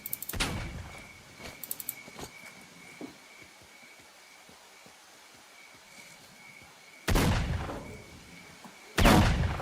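Gunfire in a video game aimed at the player: sharp shots crack out early, then quieter scattered pops, and two loud, heavy bursts near the end.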